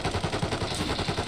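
Gunfire in an online multiplayer shooter game rattles in a dense, rapid burst of shots. The shots are loud and continuous throughout the short moment.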